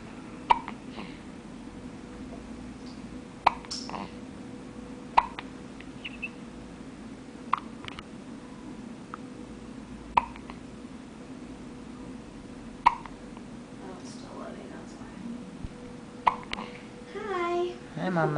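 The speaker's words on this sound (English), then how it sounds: "Ooh, those are good hiccups." A newborn baby's hiccups recur every couple of seconds as short, distinct clicks in a quiet room, with faint movement and a brief fussy vocal sound near the end.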